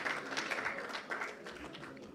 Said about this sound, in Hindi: एक बार साथ ही साथ जोरदार तालियों से उनका अभिनंदन और स्वागत करेंगे।